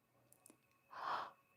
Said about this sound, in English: You hear me yawning over here?